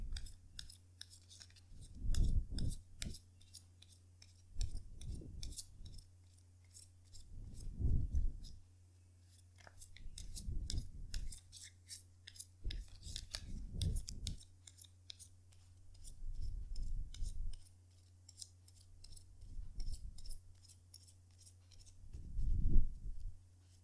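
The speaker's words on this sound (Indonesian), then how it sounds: "Jadi sebentar ya kartunya dikocok dulu sebelum kita mulai" Tarot cards are shuffled in repeated short bursts of papery riffling and tapping, each lasting a second or two with pauses between, over a low steady hum.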